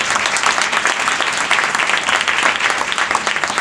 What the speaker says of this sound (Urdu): اس جوان کے لیے زوردار تالیاں بجائیں.